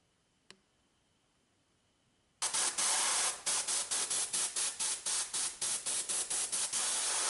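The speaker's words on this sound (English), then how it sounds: "Then I can spray the white solder mask on both sides." After a single faint click, an aerosol can of white solder mask hisses loudly onto a homemade two-sided circuit board, first in one long burst, then in a rapid series of short pulses.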